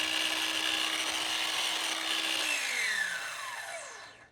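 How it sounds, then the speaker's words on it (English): Dewalt 20V cordless sliding compound miter saw, 7-1/4 inch, running alone: a loud, steady high motor whine that spins down with a falling pitch once the trigger is released. "you press the trigger and that will make the saw run"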